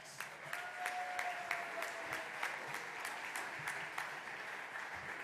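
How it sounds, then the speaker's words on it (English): Distant applause at an opening ceremony in a history center hall, a soft steady patter of clapping with some sharper individual claps standing out, heard alone without talk. "stand up and receive that applause"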